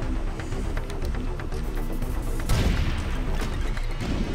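Gunfire and bullet impacts in the video game Cobalt, a dense, continuous clatter of shots, crashes and thuds with a heavier burst midway, no talking.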